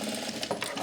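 A sewing machine stitches horizontal buttonholes on pyjamas, a brief close burst of quick mechanical whirring and ticking.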